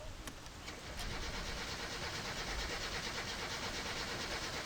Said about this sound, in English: Once the camshaft was aligned and the engine thrown back in the car, it was time to start her up again